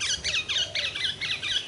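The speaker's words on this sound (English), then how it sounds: "Those birds, did you hear them? That's them now." Parakeets squawk in a garden, a run of shrill, repeated calls in quick bursts about every quarter second, fairly close and loud against a quiet outdoor background.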